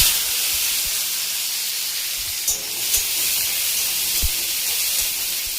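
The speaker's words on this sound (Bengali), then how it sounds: "এবার টমেটোটা ছেড়ে দেবো।" Tomatoes hit hot oil and spices in a pan for Bengali spiced pointed gourd, setting off a steady, broad sizzling hiss that holds evenly throughout, with a few faint knocks and no talking.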